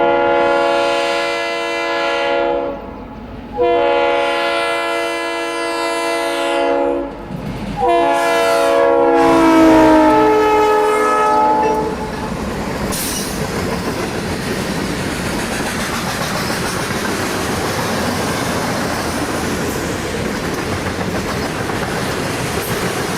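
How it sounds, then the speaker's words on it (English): A Conrail train passing Chili Junction near Rochester blows a loud multi-chime horn in several long blasts, then a steady heavy rumble and rail clatter follows as it rolls by close. "This train is coming off the West Shore Line to head west on the Chicago line."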